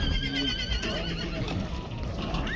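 A horse whinnies loudly and close, with wavering high neighing calls over background crowd noise and a few hoof clops at a Kazakh horse market.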